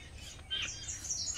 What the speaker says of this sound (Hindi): मैं आप लोग को दिखा दूँ, इतनी सारी चिड़िया आई हुई हैं, दिख रही हैं